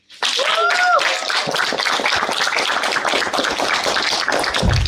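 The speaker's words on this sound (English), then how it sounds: "Another round of applause." An audience at a local youth climate conference breaks into loud, sustained applause that starts abruptly and stays even throughout, with a brief whistle near the start.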